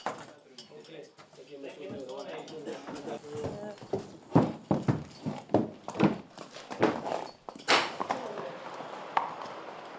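Spanish Riding School horses' hooves clip-clop on a hard surface in a steady walking rhythm, close by, in Heldenburg, Lower Austria, while a voice talks over them.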